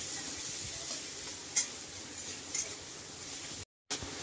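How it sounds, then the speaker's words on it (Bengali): Chopped onion frying in a pan under steady stirring gives a continuous soft sizzle with a few light scrapes and taps, fairly quiet throughout, broken by a brief gap near the end. "পেঁয়াজ কুচি, দিয়ে আমি খুব ভালো করে পেঁয়াজটা নেড়ে চেড়ে নেব"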